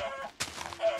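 Chickens in the video game Minecraft giving a couple of brief clucks, a short close burst of fowl calls with a soft thunk between them.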